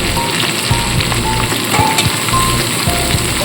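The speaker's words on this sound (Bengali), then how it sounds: "বেগুন ছাড়া সমস্ত সবজি একটু হালকা ভেজে নিয়ে এবার এখানে দিয়ে দেবো বেগুন" Eggplant dropped into a pan of lightly fried winter vegetables sizzles loudly and steadily, with crackling spatter and a few metallic scrapes and clinks throughout.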